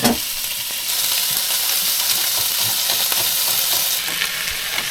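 Vegetables, pork and tofu stir-fry in a pan at a campground, giving a loud, continuous close sizzle and hiss with faint scraping of the stirring throughout, no voices.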